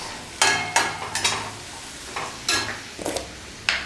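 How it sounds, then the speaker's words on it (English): Mushroom omelette ingredients being mixed with butter in a pan, a series of sharp scraping strokes of the spatula in an irregular rhythm over a low sizzle. "I'll add some more butter and give this a good mix."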